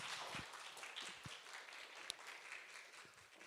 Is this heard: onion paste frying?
no